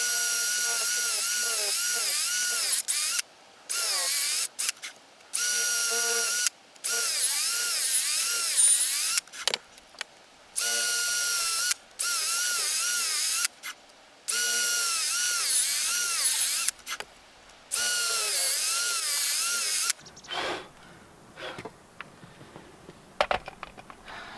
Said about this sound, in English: I am going to simply drill some holes beside that to make space for it to be loose.